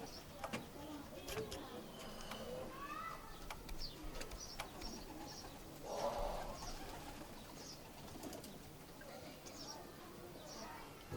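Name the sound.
pigeon cooing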